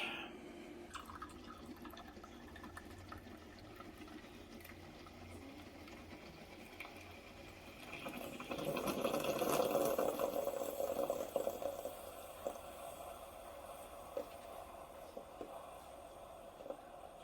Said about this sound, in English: We're waiting for the for it to pull the espresso shot.